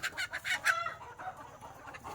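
A rooster clucks in quick, short bursts close by, followed by softer scattered clucking in a quiet outdoor setting at a free-range poultry shed.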